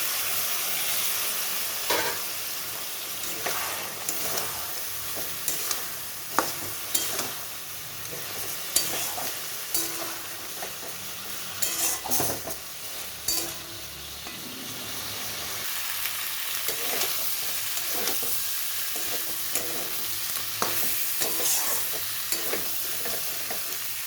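Cauliflower and potato sautéing in a pan with a little added water for a prawn curry, a long steady sizzle punctuated by repeated stirring scrapes and knocks of a spoon, close by.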